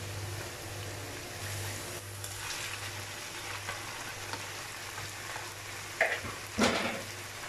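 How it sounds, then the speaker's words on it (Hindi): Quiet, steady sizzle of chicken frying in a pan under a low hum, with a couple of sharp scrapes from stirring near the end. "इसको अब मैं लहसुन अदरक के साथ अच्छे से फ्राई करूँगी"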